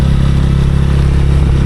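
A motorcycle rides along a forest road near Ghodakhal, its engine a loud, steady close-up drone with a slight rough flutter and no pauses, and no voices over it.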